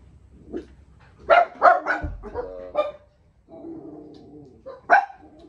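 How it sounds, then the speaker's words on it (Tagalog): Pet dogs barking at home in a short burst of sharp barks, then a pause and one more loud bark, with some yips and whimpering mixed in. "Tapos ng mga aso namin."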